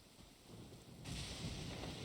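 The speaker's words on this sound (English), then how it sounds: "Ah, it's raining?" Steady rain hisses in the Genshin Impact game world, with a low rumble of thunder beneath it, the downpour swelling louder halfway through and continuing evenly at a soft, distant level.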